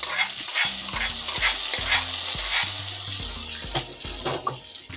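Tempering of dried red chillies and curry leaves in hot oil is poured into a tomato pachadi curry, giving a loud crackling sizzle with stirring and clinking of a utensil against the pan, close and busy.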